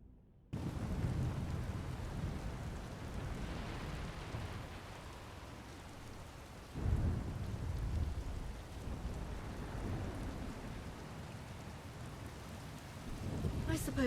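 Steady heavy rain and rolling thunder in a thunderstorm in the Star Wars: The Old Republic video game, a continuous wash with a sudden louder thunder crack midway, heard alone without talk.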